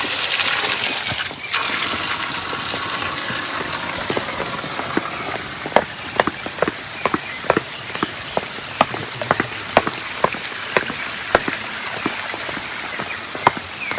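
Natural spring water runs at Gizlikent waterfall in a continuous rushing wash. Crisp drips and splashes plink irregularly throughout, close by.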